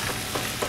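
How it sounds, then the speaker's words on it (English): Risotto with guanciale and butternut squash sizzles gently in a hot pan as it is stirred, a soft continuous crackle with faint scraping, close and alone. "You hear it sizzling a little bit."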